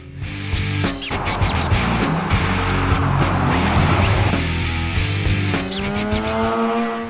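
A 1970 Datsun 1600 with a 13B rotary engine conversion revs hard and loud throughout, with gear changes and a throaty, buzzing rotary drone, ending on a steadier idle note.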